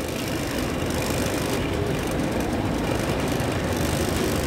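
Steady low rumble of a train at an airport station, with faint rail clatter, constant and fairly loud throughout, no voices.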